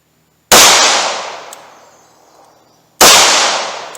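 .38 Special revolver firing full metal jacket rounds from a short barrel, two sharp, loud shots about two and a half seconds apart, each followed by a long decaying ring.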